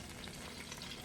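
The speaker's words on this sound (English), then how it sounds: "Ooh, hear that sizzle?" Chicken thighs sizzle in a pan, a steady close crackling fry with fine popping, heard alone.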